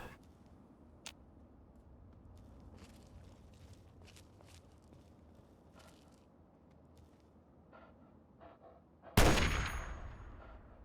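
A single sharp, loud sniper shot in Fallout 3 bursts out near the end after a long stretch of faint ticks and footsteps, then rings out and decays.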